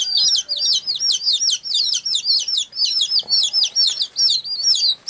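Young chickens brought home for sale chirp and peep continuously at close range. The high calls repeat in quick, rapid bursts, and no voices are heard.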